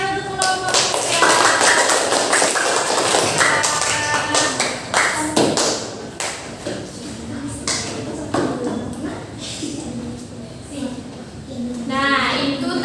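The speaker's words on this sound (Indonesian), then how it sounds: "Tepuk tangan untuk kelompok saya" A school class clapping for a group after a discussion, with quick bursts of sharp hand claps and taps mixed with children's voices and chatter in a reverberant classroom.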